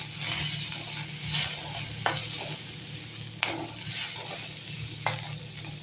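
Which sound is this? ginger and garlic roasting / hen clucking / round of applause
ginger and garlic roasting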